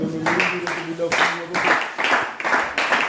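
A church congregation claps and applauds in praise during a French-language service, a loud, steady run of overlapping claps with voices speaking over it.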